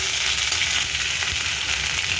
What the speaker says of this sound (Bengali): তেলে আমি আদা রসুন বাটা দিয়ে দিয়েছি